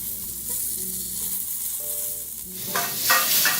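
Spice-rubbed pork sears in hot olive oil in a high-sided pan, a steady loud sizzle with brief bursts of crackling spatter near the end, and no voices.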